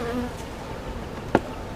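Many honey bees buzzing steadily around a hive, a dense humming swarm with one louder bee passing close.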